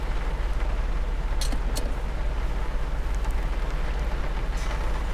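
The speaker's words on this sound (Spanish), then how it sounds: "Hasta que deje de llover." Rain falls steadily as a constant wash of hiss, with a low rumble underneath and a few faint clicks scattered through it.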